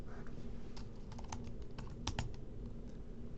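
Keys clatter on a computer keyboard as a keyword is typed, a quick run of soft, close clicks over a low background hum.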